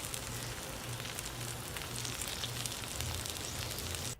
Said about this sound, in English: we're just going to cook a couple of minutes so they start getting brown